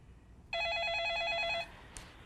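An incoming call sets off a telephone ring in a studio, a single electronic warbling trill lasting about a second, clear and close, followed by a faint click.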